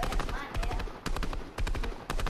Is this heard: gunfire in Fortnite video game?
yes